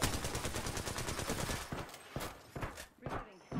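Rapid gunfire in the battle royale game Apex Legends, bursts of sharp shots in quick succession, loud and close, thinning out toward the end, with some talk mixed in.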